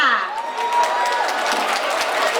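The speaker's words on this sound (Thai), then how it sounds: "ขอเสียงปรบมือต้อนรับศูนย์เครือข่ายสพมค่ะ" Audience applause and cheering at a school network welcome event, a broad burst of clapping and crowd noise that swells in and carries steadily at close range, with a voice sweeping across it at the start.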